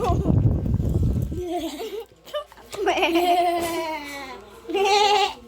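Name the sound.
person imitating goat bleating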